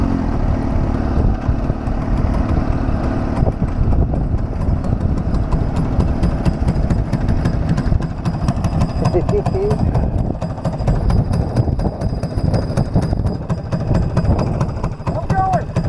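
Go-kart engines running at a track, a continuous rough mechanical drone with a rattling pulse throughout, fairly loud and close, with people talking over it.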